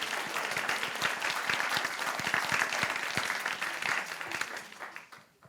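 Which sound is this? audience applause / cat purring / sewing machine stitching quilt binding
audience applause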